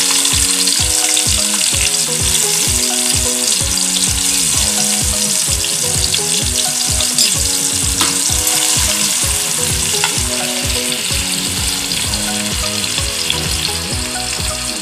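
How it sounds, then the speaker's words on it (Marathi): Garlic, curry leaves, onion and tomato frying in hot oil in a pan, a steady close sizzle under continuous rhythmic music, without talking. "चला तर मग आपलं तेल गरम झालंय, तर तेलात आपण लसूण घालूया, कढीपत्ता, कांदा, टोमॅटो घालून घेऊया।"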